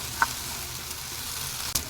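Plantain pieces frying in a covered pan for vazhaikai varuval being turned over, a soft, steady sizzle with a couple of brief scrape clicks, close and quiet.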